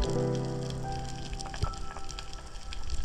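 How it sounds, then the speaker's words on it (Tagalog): A large school of torpedo scad underwater during a spearfishing trip makes a dense, continuous rain-like patter and hiss, steady throughout with faint tonal hums beneath. "meron akong narinig na parang ulan. Ito pala, ang dami mga torpedo scad or bakulan"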